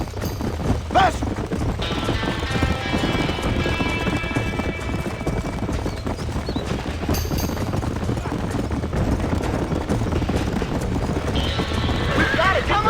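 Horses in Red Dead Redemption gallop with rapid, continuous hoofbeats near the listener amid a burning-barn scene, with an occasional whinny and voices shouting over the commotion.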